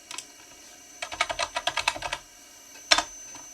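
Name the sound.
typing on a computer keyboard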